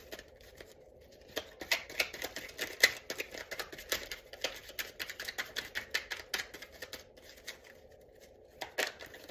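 Tarot cards are shuffled by hand in a quiet room, a fast run of crisp riffling clicks and flutters, close and fairly soft, alone without talk.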